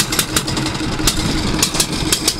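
A fishing boat's engine on the Meghna river in rain, running with a steady rough chug and periodic louder bursts, close and fairly loud, with no voices.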